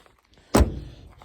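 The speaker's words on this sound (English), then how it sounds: "Door's shut nice." A 1971 Mercury Comet's car door shuts with a single solid, close thunk, a sharp broadband impact followed by a short low rumbling decay, alone in a quiet setting.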